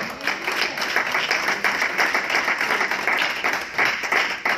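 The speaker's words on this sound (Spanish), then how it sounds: "Denle un aplauso al Señor" Congregation at a church service breaks into sustained applause, a steady wash of many hands clapping at moderate loudness for the whole stretch, with no one speaking over it.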